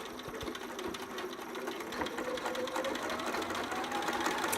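A sewing machine runs a straight back stitch near elastic, a continuous, fairly loud close hum and rapid needle patter with no pauses.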